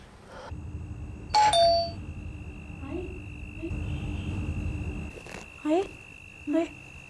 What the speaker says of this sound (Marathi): जेव्हा कोणीतरी बेल वाजवतोय.